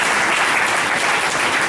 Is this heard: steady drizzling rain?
no